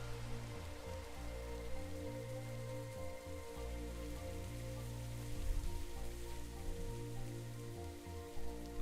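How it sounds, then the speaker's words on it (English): Rain patters steadily in the video game Minecraft, a soft continuous hiss heard over a looping, low droning game tone with no talking. "Raining too, yay."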